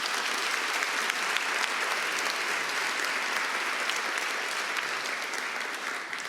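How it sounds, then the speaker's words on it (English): A bar association annual meeting audience gives a sustained round of applause, steady dense clapping from a large crowd in a hall that holds evenly and eases slightly at the end, with no speech over it. "Let's give him another great round of applause"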